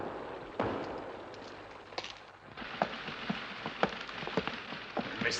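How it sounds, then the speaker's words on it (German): Light rain falls steadily in a wartime film scene, with a diffuse hiss of drops and scattered sharper patters and taps on surfaces, moderately quiet and with no talk. "Nicht heftig, aber es regnet."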